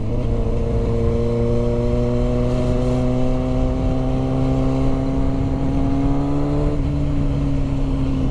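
A motorcycle engine idles steadily up close, a constant humming drone whose pitch shifts slightly near the end.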